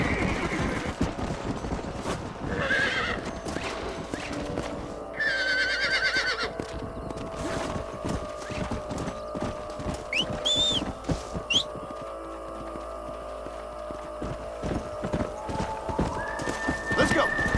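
Horses in the Red Dead Redemption video game whinny several times over steady clip-clopping hooves, with game music and ambient sound running throughout.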